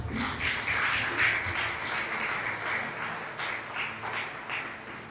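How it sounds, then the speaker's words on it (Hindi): A church congregation claps together to thank God, a dense, steady round of applause from many hands that carries on without a break. "इससे पहले हम तालियां बजाकर परमेश्वर को धन्यवाद करें।"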